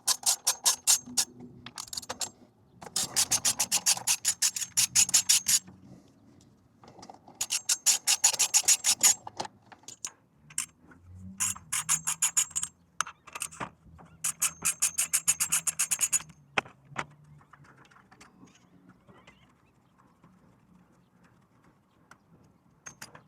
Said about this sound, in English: I'm going to take out these two bolts, and then there's two bolts underneath as well. So for that, we need a 10 mil.